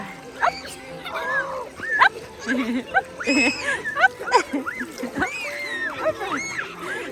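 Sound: child splashing while bathing in a lake

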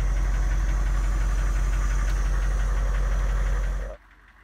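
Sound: Humvee engine running

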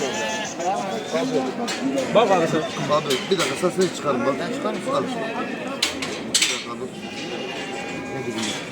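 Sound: sheep bleating at Kadirli livestock market

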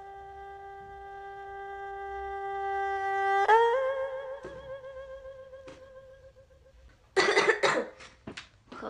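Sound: cough

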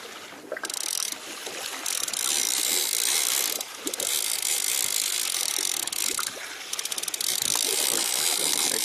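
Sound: fishing reel being cranked

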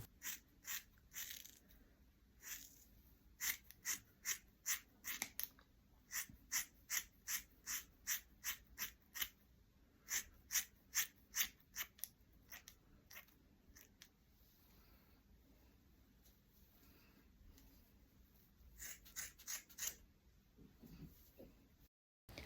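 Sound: scissors cutting braided hair extensions

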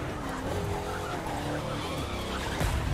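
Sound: VW Touareg car skidding in The Crew 2 video game

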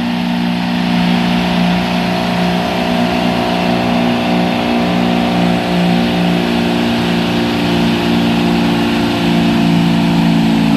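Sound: truck engine revving hard

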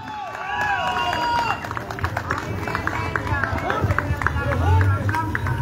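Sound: audience applause welcoming singer on stage

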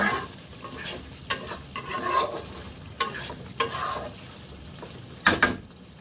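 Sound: stirring and frying mutton curry in pan

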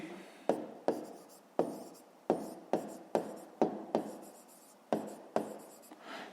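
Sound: writing by hand

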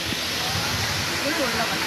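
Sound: two-branched waterfall pouring

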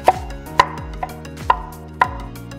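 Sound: chopping garlic

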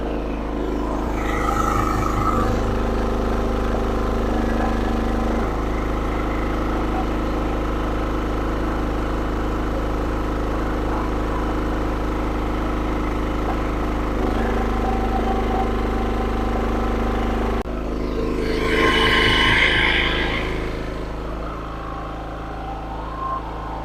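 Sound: SIGMA 2.8/3 kW petrol generator running at first start

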